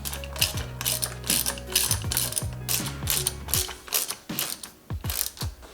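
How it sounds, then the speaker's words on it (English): A hand ratchet clicks in quick bursts while tightening intake hose clamps on a Subaru WRX STI, loud close metallic pawl ticks in repeated strokes with short pauses between. "But now that my intake's in, I'm gonna tighten down my clamps."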